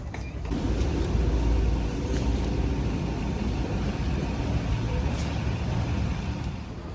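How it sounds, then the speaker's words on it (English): Airport apron shuttle bus carrying passengers out to a Lufthansa A320 at Barcelona, a steady low engine rumble and road roar filling the cabin, with faint rattles and no talk. "The bus ride took about 3 minutes."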